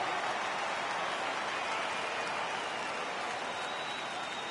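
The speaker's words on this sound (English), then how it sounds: "the rain starting to intensify here. It's coming down a little heavier now." Steady rain pours during a baseball game in MLB The Show 2022, a dense, even hiss that continues unbroken throughout, with no talking.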